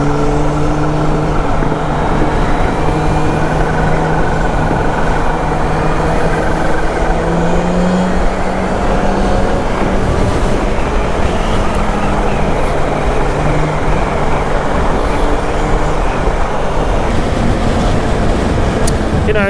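A 2021 Kawasaki Z H2 sport motorcycle engine roars continuously with shifting pitch, without pause, a loud, steady motor sound of riding at speed.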